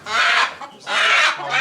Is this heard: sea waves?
no